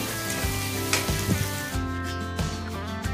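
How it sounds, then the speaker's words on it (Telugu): Onions and green chillies frying in a pan for mutton curry, a steady close sizzle with occasional stirring scrapes and clinks. "బాగా వేగనివ్వాలి ఆనియన్స్తో పాటు పచ్చిమిర్చి కూడా వేసేసుకోవాలండి"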